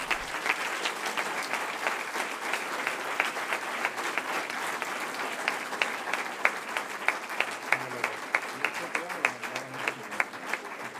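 Steady applause from an audience at an entrepreneurship award ceremony in Fuenlabrada, with sharp individual claps standing out over a dense, continuous patter lasting the whole stretch.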